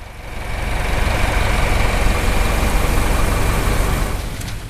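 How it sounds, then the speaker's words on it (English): A steam engine powering a Maasdam sorghum mill runs steadily and loudly up close, a continuous low mechanical chugging rumble that holds even throughout with no talking. "here's the steam engine running and in action"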